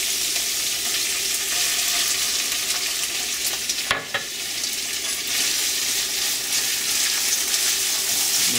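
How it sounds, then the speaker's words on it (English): Onions frying in a pan for kadai bhindi, a Pakistani-Indian okra and tomato dish, give a steady, dense sizzle throughout, with a brief dip and a small clatter midway as they are stirred. "Now we're going to put our onions in."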